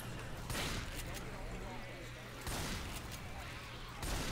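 Hunting rifle fire in the zombie shooter Left 4 Dead 2, a few sharp reports spaced about two seconds apart over a busy, noisy game background, with players talking.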